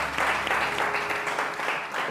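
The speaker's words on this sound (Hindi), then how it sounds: "और बहुत सारी तालियां रानी आपा के लिए" A studio audience applauds on a televised morning show, a steady wash of clapping that holds at full loudness for the whole two seconds with no talk over it.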